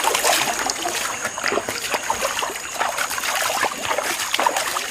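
Water splashes and trickles steadily as a body is rinsed during a baptism cleansing ritual, a close, continuous wet spatter with dribbling pours throughout.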